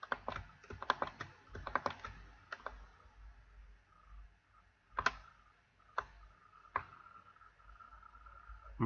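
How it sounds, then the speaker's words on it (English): Computer keyboard keys are pressed in quick clustered bursts of soft clicks, then a few sparse, isolated taps follow. The typing is quiet and close, with no voices. "just using the right key on the keyboard"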